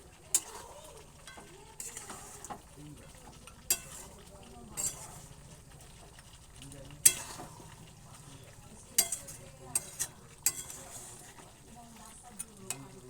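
Goat meat stirred and sautéed in a pan, with a soft steady sizzle under intermittent scraping and clinks of a utensil against the pan at irregular intervals.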